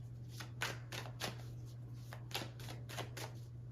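Tarot cards being shuffled by hand, a steady run of soft papery riffles and flicks close up over a low constant hum, with no talking.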